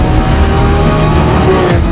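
A Lamborghini Revuelto V12 hybrid accelerates hard in a loud, dense, unbroken engine roar heard from close range, with a steady drone throughout the short burst.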